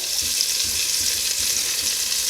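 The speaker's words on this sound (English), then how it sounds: "You can hear it sizzle" Steady, dense sizzling of green onions frying in hot grease, loud and close, with no talking.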